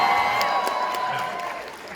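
A convention crowd at Liverpool Comic Con cheers and claps for Negan, a loud burst with whoops that gradually fades over two seconds.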